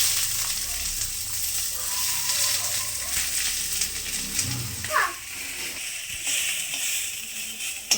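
Spices frying in a little oil for rui fish bhapa give a continuous sizzle and hiss, and someone talks over the cooking throughout.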